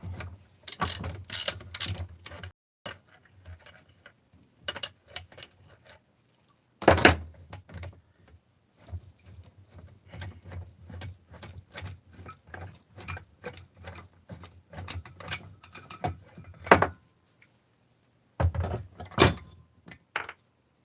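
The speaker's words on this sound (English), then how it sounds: "just split it and it'll push the crank right through." An engine crankcase is split and the crank pushed through, with a small metal bushing stuck on the PTO side. Close, rapid ratcheting clicks and mechanical rattles come in irregular bursts with short pauses and no talking.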